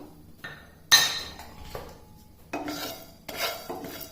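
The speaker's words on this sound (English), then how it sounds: "So first we'll begin by roasting all of these garam masala." Whole garam masala spices are dry roasted in a pan, with intermittent scraping and clinking of a metal spoon against the pan, short stirring strokes separated by quiet gaps, close up and without talking.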